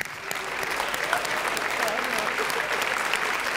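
Audience applause at an Armenian TV club show, steady dense clapping from a sizable crowd sustained throughout, with faint voices mixed in.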